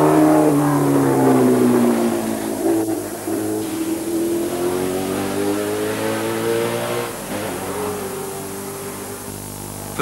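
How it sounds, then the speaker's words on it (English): Formula 3000 racing cars lap a Birmingham street circuit at close to 100 mph, with a loud, sustained engine note that rises and falls as cars pass, no voices over it. "it was a sight worth seeing as the cars lapped the circuit at an average speed approaching 100 miles an hour"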